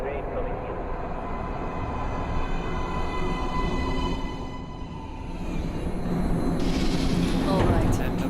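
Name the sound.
train arriving at platform in video game Metro Last Light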